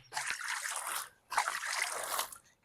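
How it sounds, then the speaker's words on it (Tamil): Water runs and trickles off a lotus leaf as it is rubbed, two soft splashing bursts of about a second each separated by a brief pause, close but faint. "அந்த தாமரை இலையில எப்படி தண்ணி ஓடுது பாரு தேய்ச்சி"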